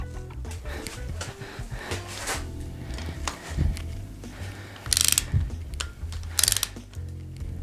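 A torque wrench clicks and ratchets on a timing chain bolt of a 2006 R53 Mini Cooper S, giving close mechanical clicks and clunks, with two sharp metallic snaps near the end.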